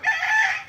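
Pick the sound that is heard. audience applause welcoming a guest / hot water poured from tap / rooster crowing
rooster crowing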